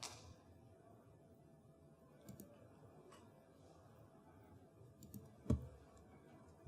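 A computer mouse gives a few sparse, soft clicks spread across a quiet stretch, with one sharper click standing out near the end.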